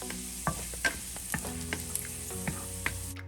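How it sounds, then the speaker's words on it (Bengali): Two tablespoons of chopped garlic sizzle in hot white oil over high heat, a close, soft, steady frying hiss broken by clinks and scrapes as it is stirred. "হাই হিটে রসুনটাকে 1 মিনিট ফ্রাই করছি।"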